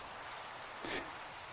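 Soft, steady hiss of rainfall in Minecraft played in VR, a continuous wash of patter with a brief swell near the end; no voices.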